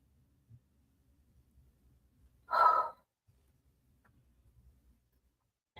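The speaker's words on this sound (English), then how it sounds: "Sorry, I keep yawning." A single drawn-out yawn from a tired person, loud and close, lasting under a second in an otherwise quiet room with faint low background noise.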